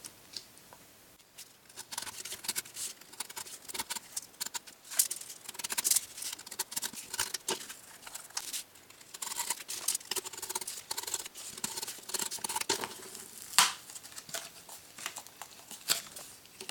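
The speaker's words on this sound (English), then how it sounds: "So you can use your knife just to cut that out." A knife cuts through a cardboard lid at close range, making a dense run of scratchy slicing and crinkling rasps with irregular bursts and no talking.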